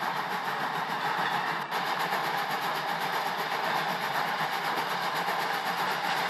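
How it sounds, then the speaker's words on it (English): A passenger train speeds through the countryside at night, a steady, continuous rumble and rush of wheels on rails that holds loud and even throughout, with no voices. "a passenger train was speeding through the countryside to get to the next"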